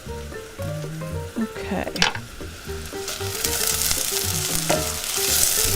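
Onion and garlic sizzle and fry steadily in a pot for a zucchini stew, a continuous crackling hiss with occasional stirring clatter, while a person talks briefly over it.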